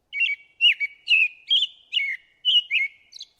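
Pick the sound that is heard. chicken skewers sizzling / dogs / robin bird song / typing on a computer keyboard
robin bird song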